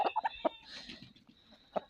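Hens cluck nearby in quick, soft bursts, a few calls close together, then a pause and another cluck; a rooster is not clearly distinct.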